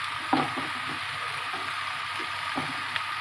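Pumpkin pieces added to fish frying in a pan, a steady, fairly close sizzle throughout, with a few light knocks and stirring clicks.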